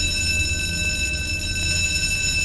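A school fire alarm in a video game rings steadily and continuously at a fairly loud level, with no voices over it.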